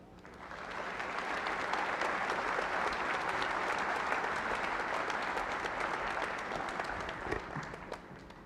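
A graduation ceremony crowd applauds a judge's introduction with sustained, dense clapping that swells up, holds loudly for several seconds and then begins to taper.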